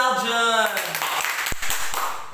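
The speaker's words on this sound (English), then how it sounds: "Clap your hands to Aljun!" Grade 3 students in a classroom clap their hands for a classmate, a short burst of scattered claps following a teacher's spoken line.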